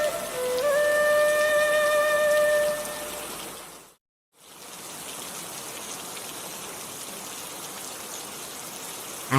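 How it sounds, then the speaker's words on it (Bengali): Steady, dense rain pouring down in a cartoon scene, a loud continuous hiss that cuts out briefly midway before resuming, with a few tonal notes early on. "বৃষ্টিতে ভিজলে যে ঠান্ডা লাগবে"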